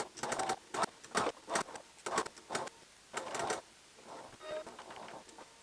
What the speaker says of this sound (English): So we're going to just sew a straight stitch all the way down and pivot at our mark.